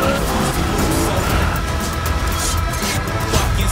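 A getaway car roars off with screeching, skidding tires in a Mission: Impossible action scene, loud and continuous over a dense cinematic mix.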